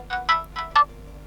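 Jump alarm tone on a NUBIA Air smartwatch: four short, bright electronic beeps in an uneven bouncing rhythm, close and clear with no talking.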